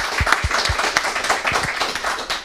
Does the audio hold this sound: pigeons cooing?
no